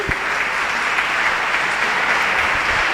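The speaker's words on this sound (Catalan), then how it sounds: "Un gran aplaudiment per ell" An audience at a Barcelona design talk gives a big round of applause to welcome the speaker, steady dense clapping filling the room without pause for three seconds.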